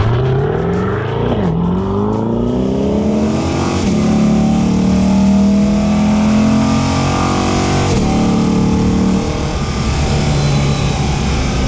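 A Corvette's 6.2-liter V8 with 495 horsepower revs hard and accelerates through its gears, a loud, close, continuous roar with rising pitch sweeps and brief shift dips.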